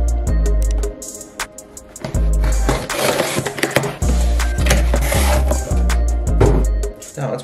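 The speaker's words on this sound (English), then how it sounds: "I got a special package in from MyProtein, so let's open her up first" A MyProtein package being opened up close: loud crinkling, tearing and rustling of packaging with thumps and handling knocks throughout, continuous and busy.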